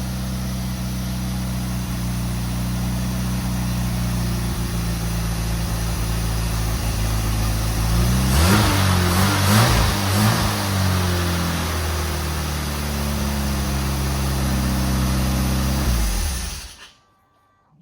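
An old car engine idles roughly, then revs up unevenly for a few seconds before settling back and cutting off abruptly at the end.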